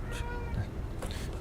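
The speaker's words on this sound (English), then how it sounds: "Yes, I heard you, cat." A cat meows twice, close by and fairly loud, with a short pause between calls over a low background hum.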